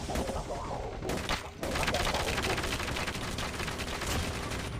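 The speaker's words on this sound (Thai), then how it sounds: "ยิงยิงให้มันเลยครับ" Rapid automatic gunfire rattles almost without pause in Call of Duty Mobile while fighting zombies, loud and dense, with a short lull before the bursts pick up again.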